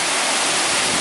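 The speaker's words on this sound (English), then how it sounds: "Beautiful set of falls on the portage" A waterfall on a portage in Algonquin Park gives a steady, loud, broadband rushing roar with no breaks, even though the river water is low.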